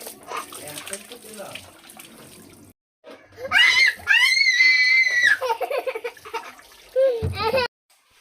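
A small child being bathed at home before school, with water splashing and running and the child crying and shrieking loudly in bursts, while an adult talks over it.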